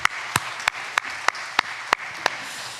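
Congregation clapping in a church Sunday service after a choir performance, heard as about eight crisp claps in a steady, evenly spaced rhythm over a quiet room.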